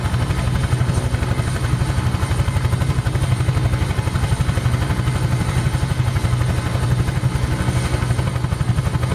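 Steady, rapid rotor thump of a Huey helicopter in Microsoft Flight Simulator, a continuous loud pulsing chop over engine whine, unbroken and without talk.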